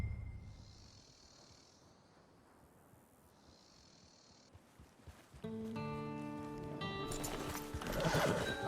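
Horse neighing and hoof clatter in a video game: a quiet rustling stretch, then a loud, close whinny with clear rising and falling calls over the last few seconds.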